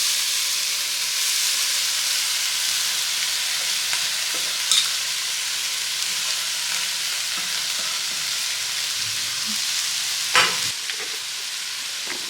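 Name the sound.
thick poha added to sizzling tempering and stirred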